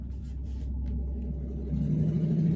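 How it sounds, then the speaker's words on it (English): A loud truck passes close by outdoors, a deep rumbling engine drone that builds and swells toward the end, heard alone without talk. "loud truck."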